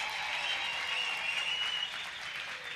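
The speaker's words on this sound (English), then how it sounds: "let's give another round of applause for all our farming management students" Graduation crowd at a Free State TVET college applauding farming management graduates, a continuous dense roar of clapping from a large hall audience, even in loudness throughout.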